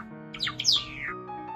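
A Java sparrow gives a few quick, bright chirps in a short burst over a steady low hum, set in a radio drama scene.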